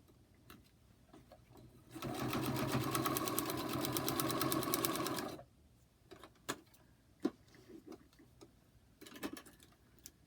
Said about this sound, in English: So I'm going to now sew on that line. It's the 7/8 line.